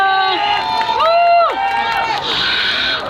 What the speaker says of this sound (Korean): 여러분 다시 한 번 큰 박수 부탁드릴게요